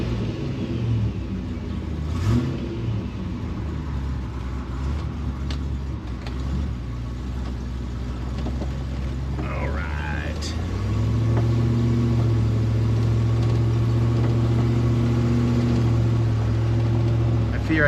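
A Range Rover Classic overland rig idles low in a steady, deep rumble that thickens and grows slightly louder partway through, with brief faint background noises over it.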